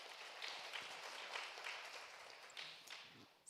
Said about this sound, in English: A warm round of applause for Dr.